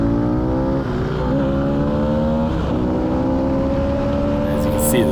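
Engine of a Harley-Davidson Sportster S motorcycle accelerating hard on a ride, a loud, steady rising drone with harmonics that shift up through gears, heard close throughout.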